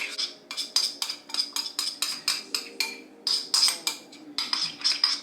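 A spoon stirs food in a bowl while cooking a meal-kit dinner at home, making a steady run of quick, bright clinks and scrapes, about three per second, close and alone.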